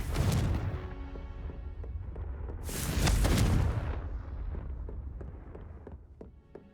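A Confringo explosion spell bursts in Hogwarts Legacy, a rumbling blast with a second louder boom a few seconds later and a decaying tail of crackles and debris.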